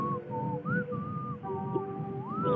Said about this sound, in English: He's whistling. Can you hear it?